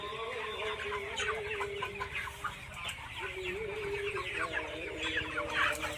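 A crowd of chickens in a poultry shed clucks continuously, a busy, dense chatter of many birds close by with no talking.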